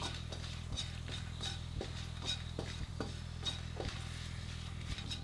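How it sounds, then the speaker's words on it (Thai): Dried chilies sizzling in hot oil while a spatula scrapes and stirs the pan in a regular rhythm, about once a second, with a low background hum. "เอาพริกแห้งนะครับ ตามชอบได้เลย ใส่ลงไป ผัดกับน้ำมันนะครับ"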